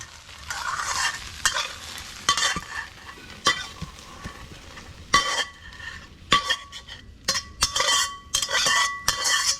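A spatula scrapes and clatters against a wok in quick irregular strokes over a steady sizzle of duck noodles stir-frying.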